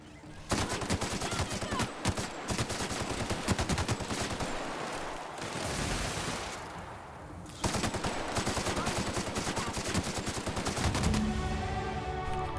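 Rapid automatic gunfire rattles at attacking bugs in The Outer Worlds, with dense sustained bursts, a brief lull midway, then more sustained fire.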